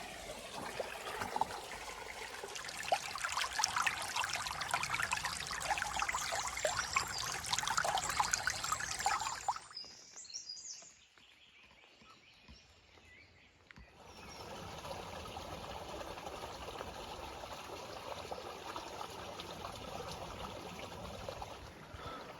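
Water trickles and streams steadily through a gold prospecting sluice, close and alone, cutting out briefly partway through before the running flow resumes at a slightly lower level.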